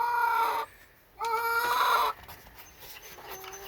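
Backyard chickens, a mix of brown and white hens, cluck at close range in two short bursts separated by a brief pause, followed by quieter ambient noise.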